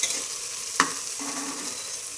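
Sizzling and frying of pulao rice with soybean pieces being stirred in a hot pan, a steady hiss with a sharp scrape of the spoon near the start and a second softer scrape shortly after.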